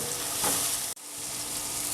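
Food browning in a hot frying pan for a cuttlefish, fennel and wine dish, giving a steady close sizzle with a brief stir-like swell and one sudden momentary dip, no talking.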